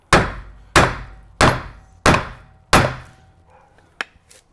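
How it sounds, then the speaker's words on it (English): A hammer strikes a steel hitch pin into an Andersen weight distribution hitch friction cone assembly: five sharp, evenly spaced metallic blows, close and loud, each ringing briefly, followed by a lighter tap and faint clicks. "take our hammer and hit it down a little bit, just enough to get that pin in"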